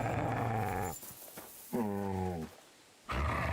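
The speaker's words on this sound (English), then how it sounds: "You silly doggy." A dog growls in low, rough bursts separated by short pauses, close and fairly loud, with no talking.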